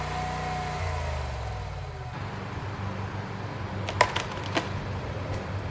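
A tractor engine hauling a trailer loaded with wood chips rumbles low and steady, its pitch shifting early on before settling into a rough idle-like drone, with a couple of sharp clicks near the end.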